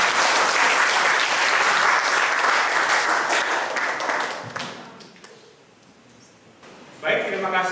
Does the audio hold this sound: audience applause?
yes